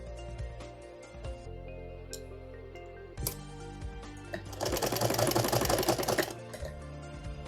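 A sewing machine stitches pleated sari fabric into a cushion cover, its rapid mechanical clatter building to a loud, dense run near the end over a quieter background of lower hum and clicks.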